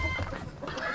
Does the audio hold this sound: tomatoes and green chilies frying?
no